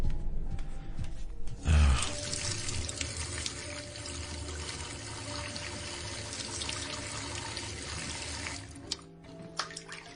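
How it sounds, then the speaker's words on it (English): Close tap water gushing into a sink for face washing in an audio drama, starting with a sudden splash, then a steady rushing flow with faint splashes before it tapers near the end. "Let me just wash my face."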